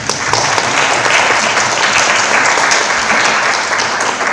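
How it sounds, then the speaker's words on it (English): Loud, dense applause from an audience fills the whole stretch, steady and sustained with no voices on top. "So yeah, applause for that one."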